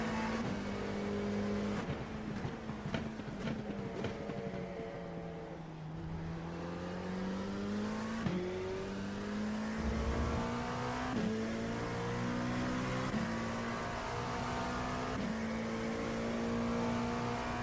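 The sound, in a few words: race cars (hypercars and prototypes) engines in iRacing video game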